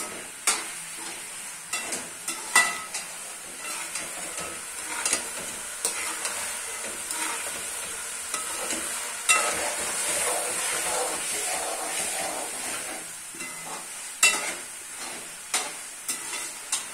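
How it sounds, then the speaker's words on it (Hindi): Minced meat (keema) stir-fries in a pot for a Pakistani Eid dish, giving a steady close sizzle and hiss broken by repeated scraping and stirring knocks, with no voices. "इस तरह से कीमे को अच्छे से भून लेंगे"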